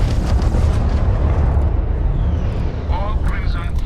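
Missiles fire during a space battle in the video game Starfield with a loud, continuous roaring rumble. Brief warbling electronic tones enter near the end.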